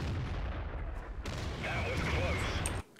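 Artillery fire in World of Tanks, heard as a dense, sustained rumble of gunfire with a whistling tone partway through, under a quiet voice; it cuts off sharply near the end.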